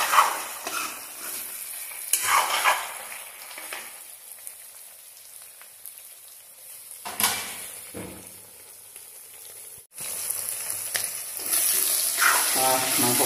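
Chicken meat and potatoes fry in a pan with an uneven sizzle and crackle, stirred now and then, swelling louder in bursts and dipping quieter between.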